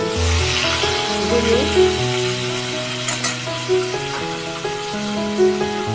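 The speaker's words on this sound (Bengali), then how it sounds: "মাছটা প্রথমে ভেজে নেব" Fish fries in hot oil for a Bengali ghorawa macher jhol with a close, steady sizzle and crackle. Intermittent spatters sit over a tonal musical background.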